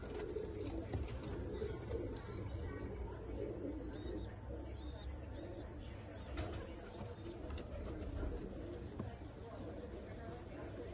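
Red-eyed pigeons cooing softly and repeatedly in a loft amid steady background noise, with low murmuring throughout and no clear speech.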